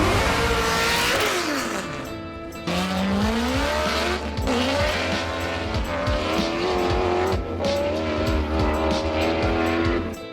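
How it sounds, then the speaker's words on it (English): A V8 exhaust revving hard, pitch sweeping up and down through several bursts and gear changes, loud and close, with brief dips between pulls. "only 2 get that musical exhaust sound"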